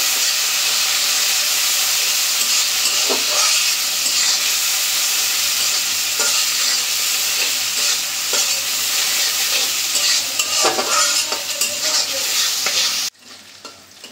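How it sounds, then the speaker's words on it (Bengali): Shrimp frying in hot oil with onion and chili in a pan, a loud steady sizzle with occasional stirring scrapes, cutting off sharply near the end. "পেঁয়াজ মরিচ মাছ একটু ভাজা নিচ্ছি"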